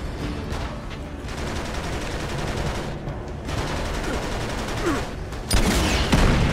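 Rapid gunfire rattles in an Uncharted 3 firefight, with sustained bursts of automatic fire, crisp sharp cracks and a heavier blast near the end, loud and close.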